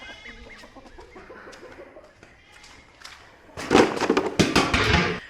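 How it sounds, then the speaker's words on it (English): Baby ducks and their mother are heard outdoors: soft quacking and clucking calls come first, then a louder, busier burst of overlapping squawks and flapping-like noise near the end. "there's the baby ducks. They're getting to be big like their mama."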